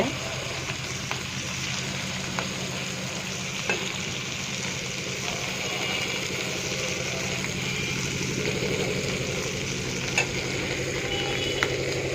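Prawns for malai curry fry in a cup of oil, a steady close sizzle and crackle with occasional stirring clinks, continuous throughout.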